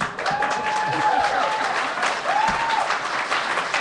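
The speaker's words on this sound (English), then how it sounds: "I don't know who's clapping harder, the boys or the girls here." A college panel-discussion audience of young men and women claps hard and steadily, a thick continuous patter with faint whistle-like tones rising over it.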